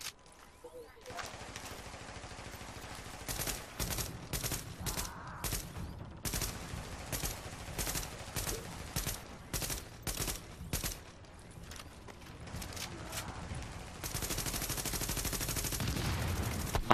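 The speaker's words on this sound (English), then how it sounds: "Wasting so much ammo just firing at his face" Sustained gunfire during a firefight in The Division, bursts of rapid automatic shots and single pops near and loud, turning into a dense continuous barrage at the end, with people talking at times.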